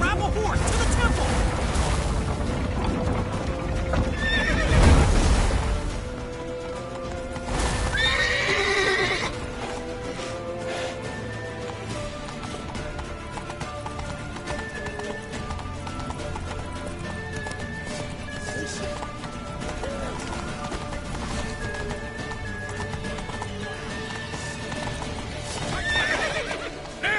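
Horses gallop and neigh in a PS4 video game: steady clip-clop hoofbeats run the whole stretch alongside game music, with louder whinnies near the start and a few more bursts later.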